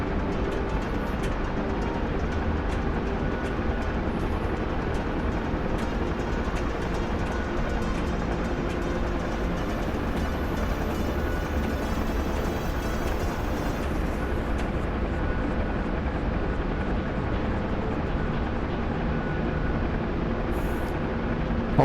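Huey helicopter in flight in an Afghanistan war video game, a constant loud, dense rotor and engine drone that holds steady throughout with no talking.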